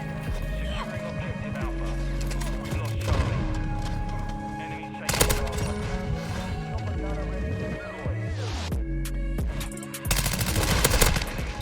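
Sustained automatic gunfire in Modern Warfare 2 multiplayer, loud rapid bursts close to the listener over game sounds, with someone talking over it.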